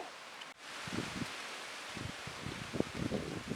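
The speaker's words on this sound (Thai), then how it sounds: "แล้วก็ลมพัดเย็นสบายเลยนะครับ" Wind blows through leaves and flowering plants outdoors near sunset, making a steady, gusty rustle that rises after a brief dip and carries on with small crackling leaf movements throughout; no voices.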